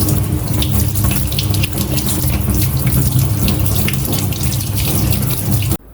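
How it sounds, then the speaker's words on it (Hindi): Tap water runs steadily and close over a block of freshly made homemade paneer held under a kitchen faucet, a constant splashing rush with no talk. "इसको या थोड़ी देर पानी में भी रखेंगे इधर टूटी के नीचे"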